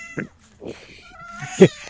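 A cat suckling from a dog meows a few times in short, close calls, the last one loudest and most strained, with faint background noise.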